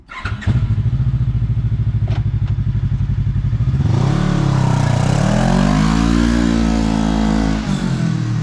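A Kawasaki KRX 1000 side-by-side engine fitted with a GGB muffler idles with a fast, rumbling putter, then revs up and holds a louder droning roar as it pulls away, close and continuous throughout.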